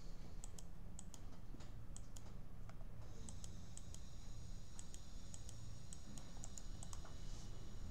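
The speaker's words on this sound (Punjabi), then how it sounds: "ਇੱਕ ਵਾਰੀ ਰਾਈਟ ਕਲਿੱਕ ਕਰੋ, ਉਸ ਤੋਂ ਬਾਅਦ ਚੇਂਜ ਕਰ ਦਿਓ" Computer mouse right-clicking while drafting in AutoCAD 2020: a scattering of faint, sharp clicks in irregular bursts over a steady low background hum, with no talking.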